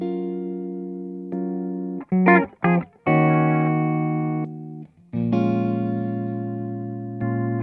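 A James Tyler electric guitar on a full humbucker with heavy distortion plays sustained chords and a few quick choppy notes, loud and close, with pauses between phrases.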